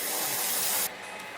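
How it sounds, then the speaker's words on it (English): A short, steady hiss of an airbrush spraying paint onto a 1:72 SR-71 Blackbird plastic model kit, which cuts off abruptly partway through, leaving a faint background hiss. "Just use my airbrush instead."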